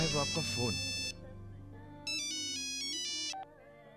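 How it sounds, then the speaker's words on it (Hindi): A telephone rings with a bright electronic ringtone, two loud bursts of repeating tones separated by a short pause, with a voice and background music underneath. "साहब आपका फोन।"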